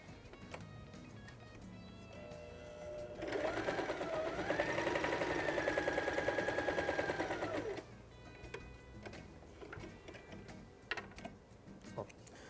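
A sewing machine runs steadily for about four seconds, stitching a side seam that joins two fabric strips face to face, with a humming motor under a rapid needle rhythm, framed by light handling noises.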